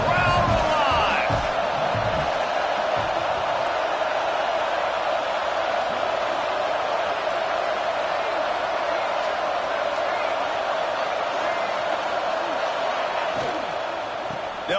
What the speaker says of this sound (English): Crowd alive.